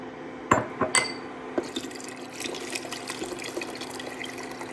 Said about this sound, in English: We're gonna add our 8 cups of water.